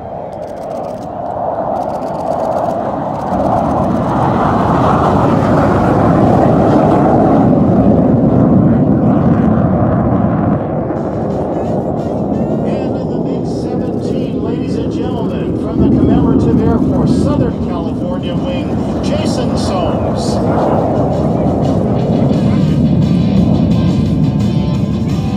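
At an air show, privately owned restored MiG and Skyhawk jets take off with a loud, sustained roar that swells and fades over the clip while a person talks throughout.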